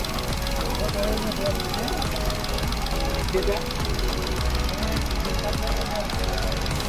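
A minivan engine idles with a low, even rumble and faint rhythmic ticking, while a person speaks over it.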